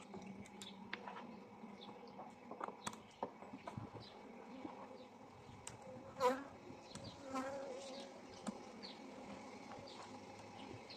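Honey bees buzz around an opened hive while frames are handled, a dense near drone with individual bees zipping close past and occasional light knocks, no voices.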